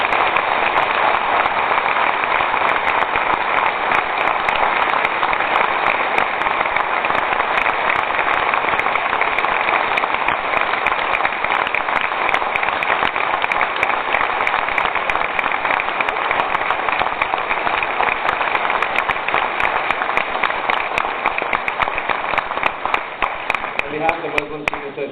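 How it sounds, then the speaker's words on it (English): A debate audience applauds steadily at the close of a question session, dense continuous clapping filling the hall for over twenty seconds, with a voice starting up faintly just at the end. "let's give them a round of applause"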